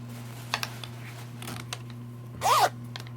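A quick zipper pull, a brief rasping zip, after a few scattered soft clicks and taps in a quiet room.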